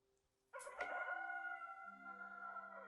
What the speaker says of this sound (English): I'd like to know where that rooster is.